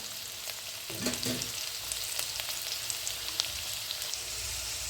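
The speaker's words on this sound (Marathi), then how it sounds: "तर या पद्धतीने पाच मिनटं आपण डाळ परतून घेतली आहे" Lentils sautéing in a pan for a chickpea-greens (harbhara) leafy vegetable dish give a steady, close sizzle and frying hiss throughout, with a few brief stirring scrapes near the start and no talk.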